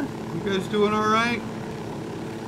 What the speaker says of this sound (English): How hard could it be? It's just a helicopter.